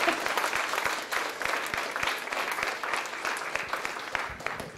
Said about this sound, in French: Donc on va applaudir les deux en même temps.